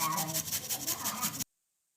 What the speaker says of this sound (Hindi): तो देखिए इसी जाली से हमें सभी आलू को घिसकर तैयार कर लेना है।